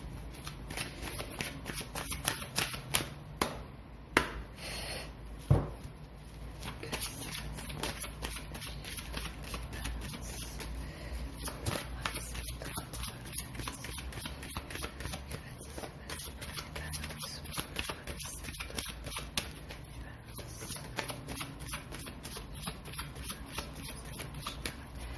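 Tarot cards being shuffled by hand during a reading, a steady run of soft riffling and flicking with sharper slaps near the start, continuing close and fairly quiet for the whole stretch.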